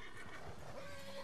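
A horse neighs briefly over a low, steady background, fairly faint, in the video game Red Dead Redemption 2.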